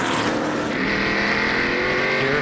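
A NASCAR stock car engine roars loudly and steadily during the 2003 Subway 500 race, its pitch climbing as it accelerates hard, with a continuous high-revving drone throughout.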